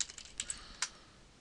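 A password is typed on a computer keyboard in a quick burst of light, close key clicks, a handful of taps over about a second with quiet in between.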